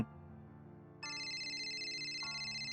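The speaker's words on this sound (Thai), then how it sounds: "โทรศัพท์คุณค่ะ" A telephone ringtone chimes in, a bright electronic melody starting abruptly and repeating clearly over quiet background music.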